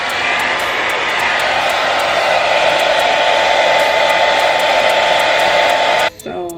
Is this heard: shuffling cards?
no